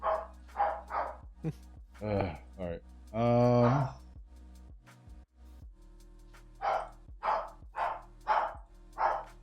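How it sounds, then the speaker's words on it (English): A dog barks indoors in a series of sharp, close barks with a longer drawn-out howl partway through, loud against a quiet room, and someone speaks briefly. "Freaking dog."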